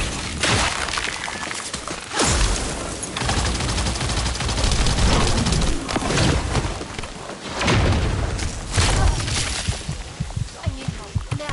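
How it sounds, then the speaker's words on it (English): Rapid bursts of gunfire from the shooter game The First Descendant, dense and loud throughout with sharp impacts and brief pauses, a voice faintly under the shots. "Stop shooting me with that."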